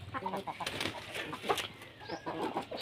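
Native-breed hens and roosters cluck and call close by, with busy, overlapping bursts of fowl noise filling the scene alongside a faint voice.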